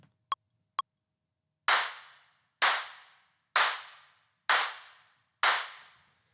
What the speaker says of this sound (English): let's also record this version of the claps, the heavier one with the distortion